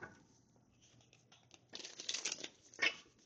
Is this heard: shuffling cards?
yes